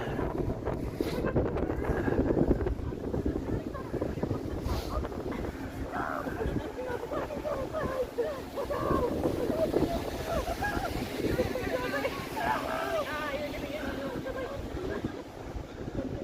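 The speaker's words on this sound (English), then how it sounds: "Ay, ay, ay, the wind. It's bad here." Outdoor wind buffets the microphone on a downtown Toronto street at night in light snow, a continuous loud rumbling roar with gusty swells throughout.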